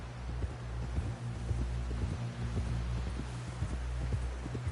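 Steady clip-clop of horse hooves in Red Dead Redemption 2, a continuous rhythmic trot over a low hum, with no one speaking.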